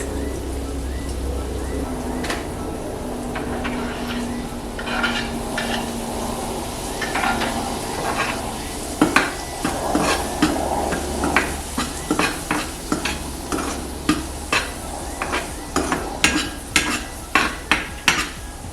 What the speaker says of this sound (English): Now the onions are getting caramelized